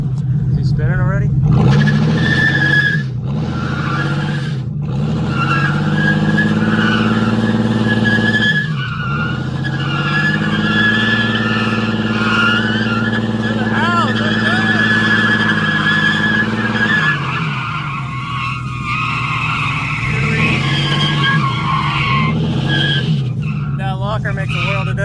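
Junkyard trucks in a front-yard tug derby spin their tires, with engines roaring and revving and tires squealing and skidding loudly and continuously. People talk over the noise throughout.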